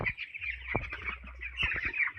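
Chickens on a poultry farm clucking and calling in a steady chorus, close and moderately loud, with brief sharp knocks and thumps scattered throughout.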